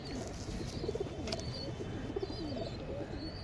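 Pigeons, Fulsira Rekda and Kalodana birds kept at a breeder's loft, coo softly in low, repeated murmurs over a steady background hiss.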